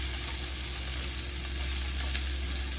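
Taco eggroll filling seasoned with cayenne fries and sizzles steadily in a pan while being stirred, a close, even crackle with no voices.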